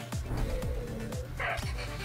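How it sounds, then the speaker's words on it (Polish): A dog in the video game Atlas Reactor gives a series of short, yipping barks, about five evenly spaced yelps over game music and background sound. "To taki bardziej pies niż mniej."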